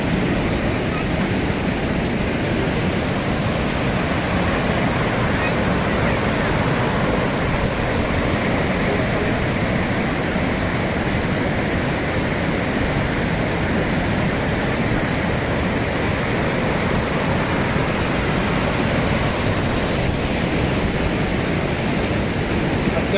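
The flooded Saga Vadi river, swollen after rain, rushes past in a dense, continuous roar of churning water, loud and unbroken throughout.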